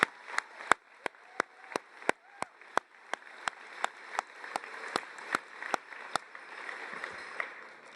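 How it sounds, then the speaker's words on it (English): At a college commencement ceremony, a handful of hands clap in a steady, sparse rhythm. Crisp, separate claps rise above a low hall ambience for several seconds, with no voices on top. "Can we give a round of applause for the folks at home?"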